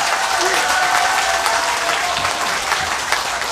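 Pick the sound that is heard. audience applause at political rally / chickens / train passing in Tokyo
audience applause at political rally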